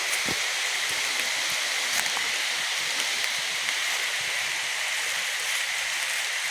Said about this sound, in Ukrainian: Ось він вже і стишується, якимись набігами цей дощик.